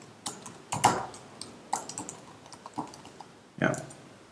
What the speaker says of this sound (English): So cd.